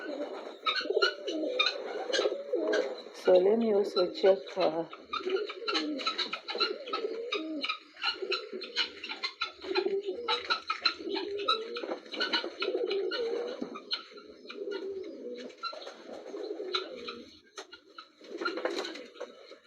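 Pigeons kept near rabbit hutches coo steadily in soft, low, throaty phrases, with some faint chirps mixed in, while a person speaks briefly.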